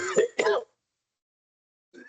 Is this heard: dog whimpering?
no